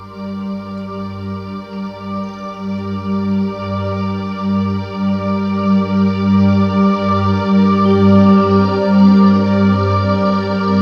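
A sustained keyboard string pad swells slowly, opening a song with rich layered chords and low drones, rising gently in loudness with no voices.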